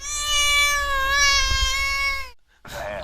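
Miles Davis, a pet cat, lets out one long, drawn-out meow close to the microphone, loud and wavering in pitch, then breaks off. A short, faint rustle follows after a moment of quiet.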